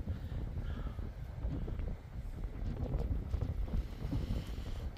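Strong wind buffeting the microphone on a cloudy northern Hokkaido coast with rough waves, a constant low rumbling roar that swells and gusts without pause.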